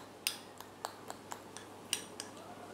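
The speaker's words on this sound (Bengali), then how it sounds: "তো এটা আমি ভালোভাবে মিশিয়ে নিচ্ছি।" Spoon clinks against a bowl while potato and gram flour face pack is mixed, several sharp, light taps in an uneven rhythm, close and fairly quiet with no talk.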